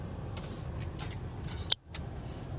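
A car idling at a traffic light: steady low engine rumble and road hum throughout, with a sharp brief click near the end, no talking.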